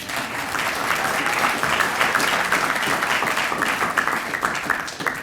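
A room full of people at a press conference applauds, a dense, steady wash of clapping that holds evenly for several seconds.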